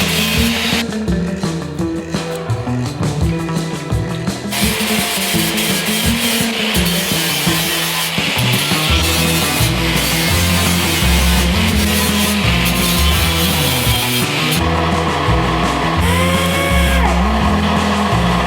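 A power tool grinds rust off a truck's rusty cab corner, a loud, continuous abrasive rasping and whirring with a shifting pitch that runs throughout without a break and with no speech.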